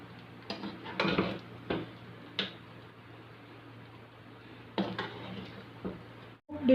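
Freshly cooked biryani being served from a pot into a dish, a series of sparse metallic scrapes and spoon clinks against the pot at irregular intervals over a low steady hum, close by, with no talking.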